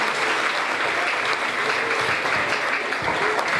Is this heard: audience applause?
yes